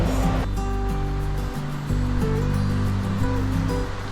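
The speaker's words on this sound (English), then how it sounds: "the sound of rushing water" Rushing river water at Great Falls Park along the Potomac, a steady, loud roar that fills the whole stretch, with low droning tones underneath and no voices.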